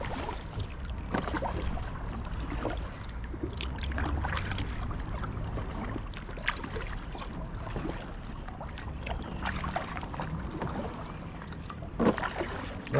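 Aquaglide Cirrus inflatable kayak being paddled on calm water, repeated soft splashes and drips of the paddle strokes in an irregular rhythm over faint outdoor background.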